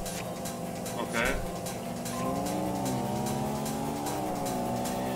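Race car accelerating in the video game Tokyo Xtreme Racer 3, a close engine whine climbing in pitch through gear shifts, steady and continuous, with someone talking over it.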